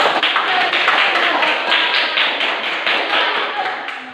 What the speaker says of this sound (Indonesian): beri tepuk tangan kalau temannya sudah